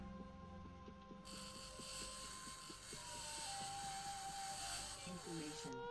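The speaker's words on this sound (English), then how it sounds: "That's a giant saw." A giant saw starting up in the Occupy Mars video game, a hissing mechanical whir that kicks in abruptly and runs steadily over a pulsing, tonal machine hum before cutting off.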